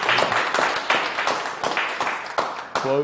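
Audience applause at a meeting held inside Henrico West Jail: a steady wash of clapping hands, moderately loud and fairly close, swelling in brief bursts, with a short voice heard near the start and again near the end.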